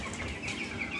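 Cobb-500 broiler chickens in a poultry house give off a steady, dense background of clucking and murmuring from the flock, moderately loud, with no talk over it.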